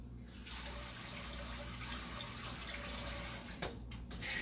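Tap water runs steadily into a pan for cooking eggs in a home kitchen, a continuous close splashing hiss with a brief break near the end before flowing again.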